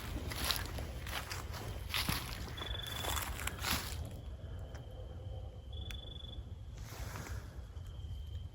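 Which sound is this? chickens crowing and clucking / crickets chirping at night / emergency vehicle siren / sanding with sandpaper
crickets chirping at night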